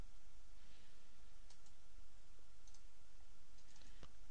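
Computer mouse clicks while working in Altium Designer, a few sharp faint ticks scattered over a steady background hiss, no speech.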